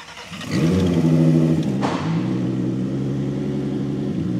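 A 700 hp Volkswagen Golf 2 engine fires up and settles into a loud, lumpy, rumbling idle close by, with a brief rev early on before holding a steady throb.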